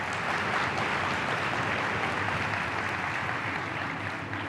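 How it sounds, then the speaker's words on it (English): Sustained audience applause at a cancer-charity convention address, steady dense clapping filling the whole stretch at an even level with no voices standing out. "We should clap about that."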